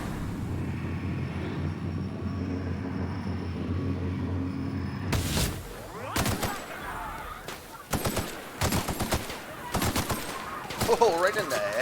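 Gunfire from The Outer Worlds on Xbox One, a string of sharp shots and bursts in the second half following a steady low hum, with a voice talking among the shots.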